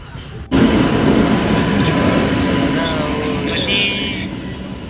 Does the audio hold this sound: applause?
no